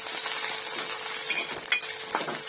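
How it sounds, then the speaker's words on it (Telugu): About 100 grams of green chillies fry in hot oil in a bowl, a steady close crackling sizzle with a few clinks from a spoon stirring through it, no voices. "అదే బౌల్లో ఇప్పుడు 100 గ్రాముల పచ్చిమిర్చి యాడ్ చేసుకుంటున్నామండి. ఇది కూడా ఫ్రై చేసుకుందామండి బాగా."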